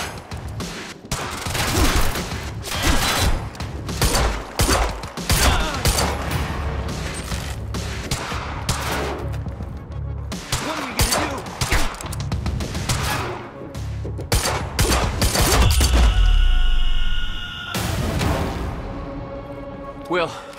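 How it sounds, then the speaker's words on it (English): A chaotic gunfight in Quantum Break rattles with rapid bursts of gunfire and heavy impacts over about twenty seconds, loud and close, while people shout and talk through the shooting and a louder blast lands near the end. "Stop fucking shooting at us!"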